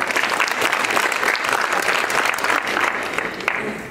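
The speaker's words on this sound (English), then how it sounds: "I think you deserve a round of applause for yourself." An audience gives sustained, even applause in a hall during a Sierra Leone delegation event in New Jersey. The clapping is dense and steady, close and loud, with faint voices beneath it.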